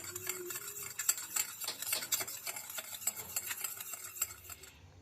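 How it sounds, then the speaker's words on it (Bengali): A spoon stirring sugar into warm water to dissolve it for a sugar syrup for a chocolate cake, giving quick repeated scraping and clinking against the bowl, close and busy, fading out at the end. "এবার চিনিটাকে ভালো করে নেড়ে আর চিনিটাকে গলিয়ে নিচ্ছি।"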